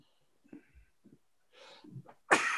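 A person indoors lets out a single sharp, loud sneeze after a few faint breaths and sniffs, the burst cutting off the quiet at the very end.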